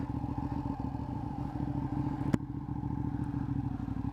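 A 2016 Ducati Panigale, a rebuilt wrecked bike with its fairings off, idles and runs with a steady low engine rumble, a single sharp clack partway through, no talk.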